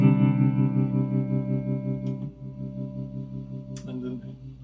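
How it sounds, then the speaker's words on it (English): Inexpensive Gitafish electric guitar played through its built-in vibrato effect, sustained chords wavering in pitch, loud and close, then fading before a new strum near the end. "So here's the vibrato sound."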